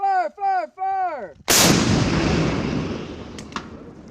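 An M3E1 MAAWS anti-armor recoilless rifle fires a single sharp, very loud blast outdoors, followed by a long echoing decay. Shouted commands come just before the shot.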